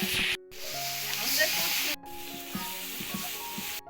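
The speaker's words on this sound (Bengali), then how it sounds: "আজকে যেমন সকাল তেমন খানদানি কড়াইতে খিচুড়ি রান্না করতেছে।" Steady hiss of khichuri sizzling in a hot wok, with faint stirring knocks and a brief break in the sound partway through.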